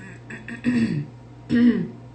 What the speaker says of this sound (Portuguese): A tosse permanece, o pigarro também.